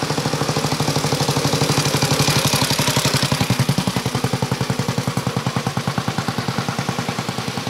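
A 1927 Sunbeam Model 6 motorcycle engine runs steadily nearby, its rapid, even single-cylinder firing pulses beating loud and regular throughout with no voices.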